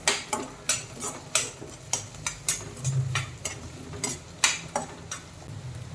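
Shallots and garlic sautéing in a pan for squid roast, with a soft sizzle beneath repeated sharp clacks of a spoon stirring against the pan at an irregular rhythm, close and alone.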